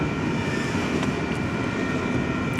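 A Union Pacific manifest freight train rolls toward a junction into BNSF track near a yard, giving a steady low rumble and rolling rail noise at a constant level, with no talk.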